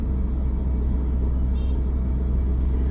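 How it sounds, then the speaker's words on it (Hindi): A car being driven in second gear on a wide road, heard from inside as a steady low engine and road rumble that holds even and continuous throughout, with no talking. "अभी हम लोग सेकंड गियर में कार को चला रहे हैं।"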